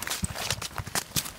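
A horse's hooves clip-clop in short, uneven strikes, around six close hoofbeats over a brief moment as it is led away from a stable yard, with no voices.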